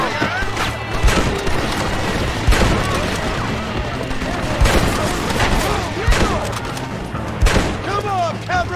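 Machine gun fire in the Red Dead Redemption video game, loud repeated bursts of gunshots and booming impacts in irregular clusters, mixed with game effects and shouted voices.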